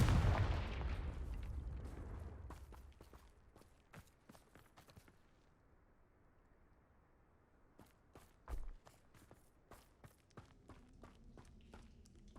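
A Confringo spell from Hogwarts Legacy goes off with a booming blast that fades into a low rumble, followed by sparse sharp clicks and footstep-like taps and a second, smaller thud.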